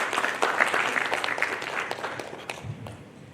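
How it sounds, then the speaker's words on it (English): Applause from the audience at a print industry road show in Haridwar, a steady wash of clapping that rises early, holds, then thins toward the end, with faint voices mixed in. "So I think the print industry deserves a big round of applause."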